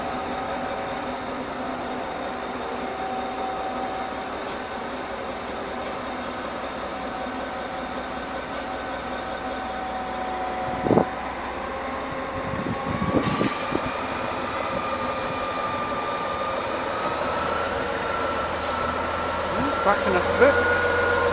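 Small diesel shunter locomotive at Hamburg Hauptbahnhof rumbles steadily nearby with a sustained engine hum and layered tones, broken midway by a few sharp clanks and thumps.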